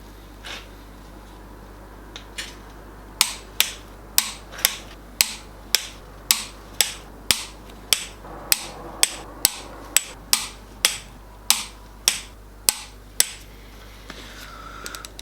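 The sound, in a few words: tightening cylinder head bolts with a torque wrench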